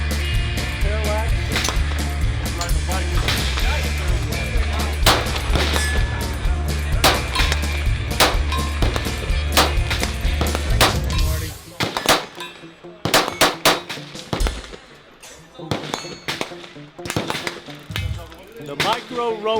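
A Glock pistol in a Micro-Roni chassis fires fast strings of sharp shots at a range, loud and close. Voices talk over the shots, and later single shots ring out unevenly with metallic clanks.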